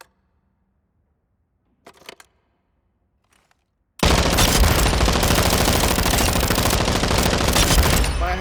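A custom-built machine gun firing in Call of Duty Modern Warfare II, a loud, sustained automatic burst that starts abruptly after a few quiet clicks and rattles on without pause, with no talk.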